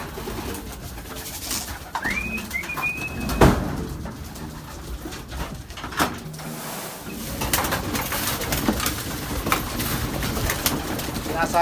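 Racing pigeons in a fancier's loft in Laguna coo softly and repeatedly, close by, amid wing flutters and light knocks, with someone talking intermittently over them.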